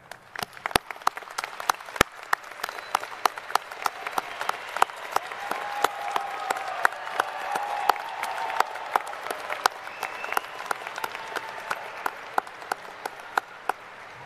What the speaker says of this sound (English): join me in a round of applause for those who have supported you each and every step